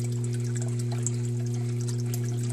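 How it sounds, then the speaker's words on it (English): Water trickling over a bell siphon in an aquaponics grow bed gives a soft, steady, continuous flow under a strong low pump hum, with faint splashy detail and no speech. "now the water's flowing over"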